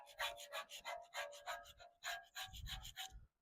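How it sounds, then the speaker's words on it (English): A rag soaked in lacquer thinner wipes sticky residue off an excavator part, making a run of close, rhythmic scrubbing strokes with a brief pause midway and no talking. "A little bit of lacquer thinner on there and clean some of that off there, the sticky stuff."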